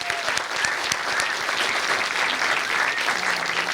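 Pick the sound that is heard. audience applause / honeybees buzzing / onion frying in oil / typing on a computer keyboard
audience applause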